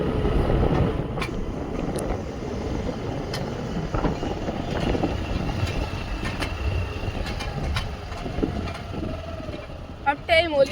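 A tractor engine runs steadily through a village farm field, a continuous low rumbling drone with scattered clicks and rattles that grows busier near the end.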